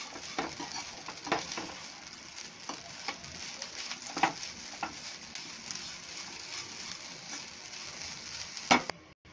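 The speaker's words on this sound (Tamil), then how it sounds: "தேங்காயை சேர்த்துட்டு ஒரு 2 நிமிஷம் நல்லா ஃப்ரை பண்ணிக்கோங்க." Grated coconut frying in a pan for coconut rice, a steady soft sizzle with scattered scrapes and clicks of stirring, close and alone without any voices.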